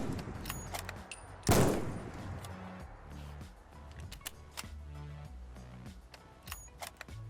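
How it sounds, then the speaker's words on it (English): Bolt-action Remington M700 rifle in Fallout 4: one loud sharp gunshot followed by a series of metallic clicks and clacks as the bolt is worked, with faint game ambience underneath. "Very, very good bolt action."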